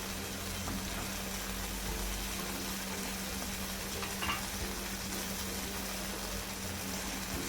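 Veg hakka noodles are tossed with red chilli and dark soy sauces in a hot pan, producing a continuous even sizzle and stirring hiss throughout, with no talking.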